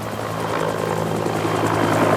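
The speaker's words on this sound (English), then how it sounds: "Then the helicopter took off, and for a few tense minutes flew across the town." A government helicopter takes off near a town, its rotor thumping steadily and fairly close in a continuous whirring drone with no voices.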